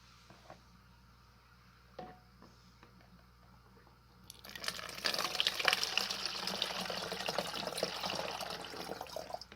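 About a litre of water is poured through a funnel into a container for a homemade CO2 setup. After a few quiet seconds with faint taps, a steady, close splashing flow starts midway and continues to the end, with no talking.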